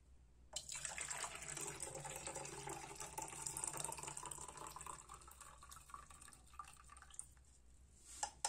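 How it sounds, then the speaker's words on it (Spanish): Chamomile infusion, brewed from four tea bags, pours in a steady trickling stream into a henna and plant hair mix, a continuous close splashing and dribbling with no talk over it. "le vamos a añadir la infusión de manzanilla"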